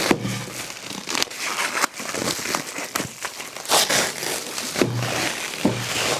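Foil packaging around an RTX 3060 Ti graphics card is torn and crumpled by hand, with loud, close, irregular crinkling and sharp ripping bursts throughout.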